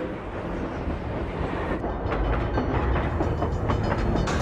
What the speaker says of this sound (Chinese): 这条铁路上只跑一种火车，那就是载重超过2万吨的重载列车